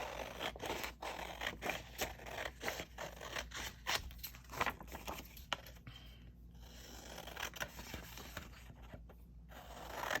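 Scissors snip through decorative paper while an idea book is trimmed by hand, a run of close, crisp cuts and light scrapes repeating irregularly, with quieter paper handling in a short pause midway.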